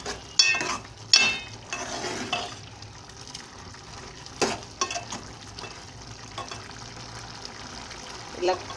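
A spoon scrapes and stirs okra curry (bendakaya pulusu) in a pan, giving a few sharp clanks over a soft simmering bubble, while someone talks quietly between the strokes.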